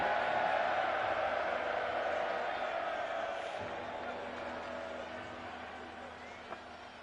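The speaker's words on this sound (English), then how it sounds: "This crowd turning up the decibel level." Steady roar of a football stadium crowd at a Falcons versus Raiders game, a broad sustained wash of cheering that slowly fades a little over several seconds, with no clear talk on top.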